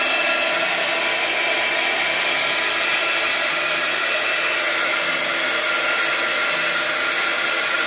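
A hair dryer blows steadily to dry white and copper paint on a mixed media canvas, a loud, continuous airy whir close up that runs without a break.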